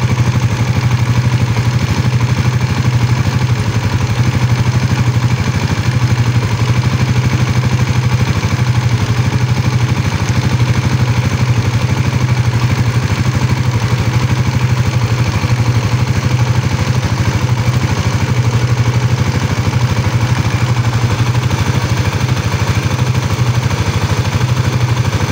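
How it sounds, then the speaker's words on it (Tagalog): A 2024 Honda Raider 150 Fi motorcycle engine idles steadily and loudly up close, a continuous even mechanical hum with light ticking clatter and no change in pace throughout. "pinaandar muna natin yung ating motor mga boss"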